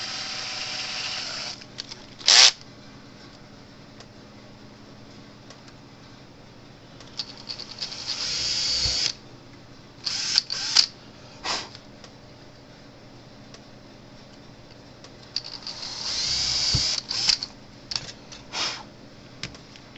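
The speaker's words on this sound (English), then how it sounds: "I need to drill the hole out a little bit bigger on that board for these wires to go into" Several short bursts of a high whining power drill enlarging a hole in a board, starting and stopping in uneven spurts with quiet gaps between them.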